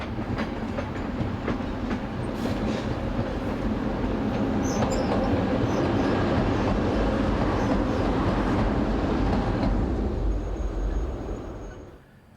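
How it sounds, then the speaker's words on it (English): Locomotives 1351 and 1326, a pair of diesels on a four-track railway, roll in as a steady, moderately loud rumble with faint wheel clatter that fades away at the end. "Numbers 1351 and 1326 arrive from the east, ready to work a freight service later in the day"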